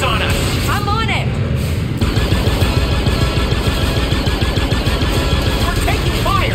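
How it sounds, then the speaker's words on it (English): Rapid gunfire in the Star Wars Outlaws video game, a busy burst of shots and booms mixed with chirpy electronic effects throughout, loud and continuous. "We're taking fire."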